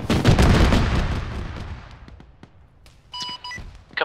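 Artillery fire mission of high-explosive rounds in a video game, a heavy booming blast that rolls off into a long decay, followed by scattered sharp cracks and a few electronic beeps.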